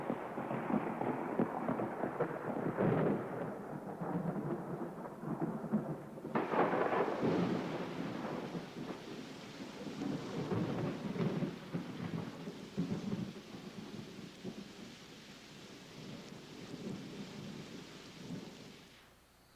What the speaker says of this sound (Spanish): esa tarde Dios envió una tormenta que acabó con la sequía